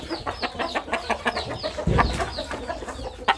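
A young chicken of unclear breed on a poultry farm gives a rapid, close string of short clucks and chirps over a few seconds, with one louder squawk midway.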